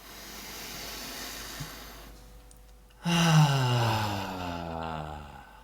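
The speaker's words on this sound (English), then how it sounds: "Second breath, breathing in." A long, deep breath drawn in through the nose during a guided breathwork exercise, soft airy hiss at first, then a louder, fuller rush of breath close to the microphone.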